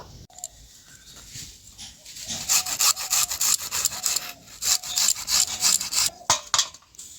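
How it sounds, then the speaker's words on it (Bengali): An onion is rubbed against a grater in a rapid run of rasping, scraping strokes, close and fairly loud, with no talking. "পেঁয়াজটাকে গ্রেট করে নেবো"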